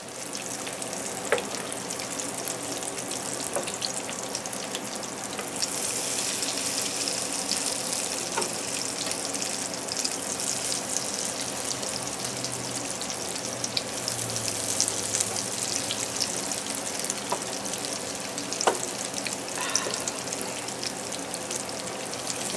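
Breaded zucchini sticks fry in a pan of hot oil, a steady dense sizzle running throughout with occasional sharper pops and faint clinks as pieces are moved, close and even in level with no talking.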